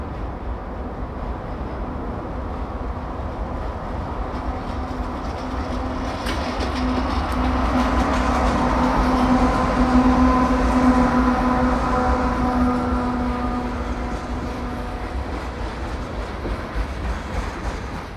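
A loaded CSX coal train led by two GE locomotives rolls past in the Blue Ridge Mountains, a steady rumble with rail clatter that swells as the locomotives draw near and a sustained engine drone in the middle.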